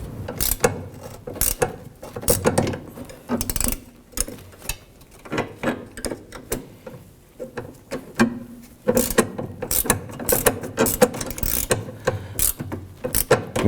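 A wrench tightens the sway bar link nut on a 2006-11 Honda Civic with repeated close ratcheting clicks and metallic scrapes in short uneven bursts, no talk.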